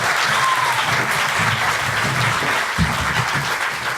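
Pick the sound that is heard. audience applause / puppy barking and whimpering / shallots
audience applause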